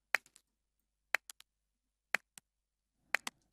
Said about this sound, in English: And if we hit solo on this clap,